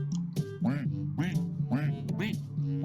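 Ducks in the Unity game Ducksellate quack in a quick series of four or five close, nasal calls, with a faint voice briefly underneath.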